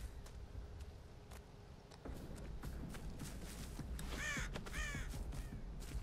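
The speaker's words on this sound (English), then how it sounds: "How'd that crow go off?" A crow caws several times in Dead by Daylight, harsh rasping calls rising over low ambient game rumble and scattered footstep-like taps, fairly close and clear.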